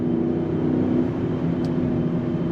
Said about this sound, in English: we have that twin turbo V8 over 500 horsepower